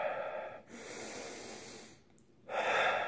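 A slow, calming breath drawn in close and quiet, then a pause, then a soft, airy exhale alone.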